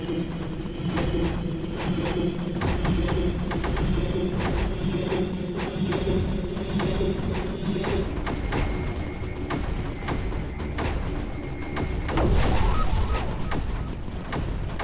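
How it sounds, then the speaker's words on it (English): Explosions in the video game Creeper World 4 boom and thud in a dense, continuous barrage, loud and layered over droning game tones, swelling into a bigger blast near the end. "Explosions!"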